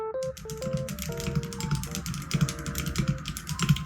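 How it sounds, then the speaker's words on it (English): Keys on a mechanical keyboard fitted with linear switches are typed in quick, uneven bursts of crisp, close-up clacks and thocks. "let me start this off by showing you linear switches"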